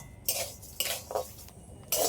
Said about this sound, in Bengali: আর এই চালটা কিন্তু ভাজার সময় কিন্তু অনবরত এইভাবে খুন্তিতে নাড়তে হবে